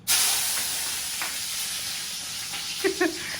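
Chowmein ingredients and onion hit hot oil in a home kitchen pan, bursting into loud, steady sizzling and hissing that continues throughout, with a few small pops and splatters near the end.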